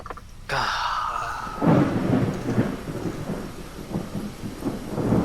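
Steady rain hisses under a deep, rolling rumble of thunder that swells after the opening second and keeps grumbling; a voice may be faintly present underneath.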